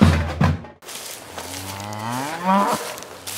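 Dairy cows on a farm at Séglien moo in long, drawn-out calls, loud and close, with several overlapping lows and no speech.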